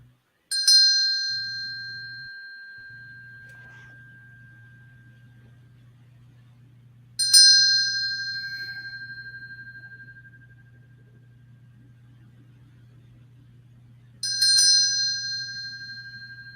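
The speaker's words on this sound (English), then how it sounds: "y'all let me know if this bell is too loud" A root chakra bell is struck three times at slow, even intervals, each clear ring decaying gradually into near silence over a low steady hum.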